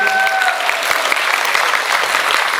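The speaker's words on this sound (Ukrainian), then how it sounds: "А це його мама, моя дружина Катя. Їй теж оплески" Loud, dense applause from a concert audience in a hall in Truskavets, steady through the whole moment, with a brief fading musical tone at the start.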